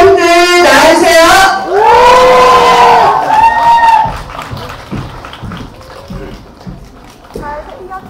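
A cinema crowd greets a film's director and cast at a stage appearance with loud, high-pitched cheers and screams, followed by lighter clapping and chatter as the excitement settles.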